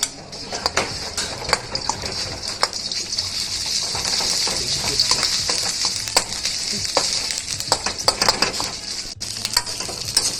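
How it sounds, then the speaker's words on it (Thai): Thai red curry paste sizzles and spits in hot oil while a utensil scrapes and stirs in uneven strokes, loud and close throughout. "นี้เราเอาพริกแกงเผ็ดมา ใส่ลงไปเลยผัดให้มันหอมก่อนนะครับ"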